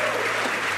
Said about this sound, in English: an extremely excited crowd here in Hawthorne